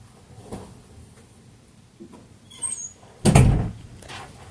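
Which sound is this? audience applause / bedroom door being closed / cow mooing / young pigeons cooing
bedroom door being closed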